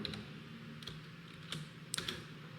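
JavaScript code is typed on a computer keyboard, heard as a few sparse, crisp key clicks close up over a low background hum.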